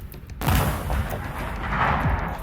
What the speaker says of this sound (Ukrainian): Увага, постріл!